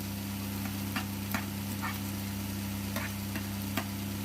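Onions frying in a pan for a banana fry, giving a steady low sizzle with occasional soft clicks of a spoon stirring, fairly faint and even throughout.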